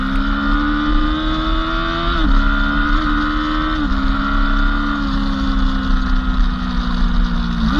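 A Kawasaki ZZR1400 motorcycle engine hums steadily under load at speed, its pitch stepping down at a few gear changes, loud and close throughout with no speech.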